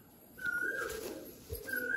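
Adult pigeons of Madrasi, Rampuri and Malwai breeds, kept for sale near Kolyapur railway station, coo in two short, close whistling bursts over a steady low background hum.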